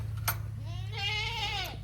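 Goats on a small farmstead give a single drawn-out, wavering bleat, loud and near, during morning feeding chores over a steady low hum.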